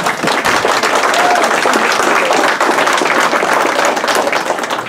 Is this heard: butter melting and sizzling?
no